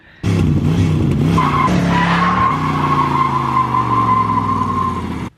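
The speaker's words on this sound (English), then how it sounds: "let's go do a burnout before we get working on this vet" A 1970s-era Corvette C3 roars loudly up close during a burnout, its engine held at high revs while the tires squeal in a long continuous skid that cuts off near the end.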